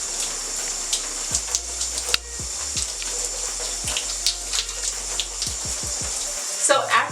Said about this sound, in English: So now after 5 minutes, I'm just rinsing it off.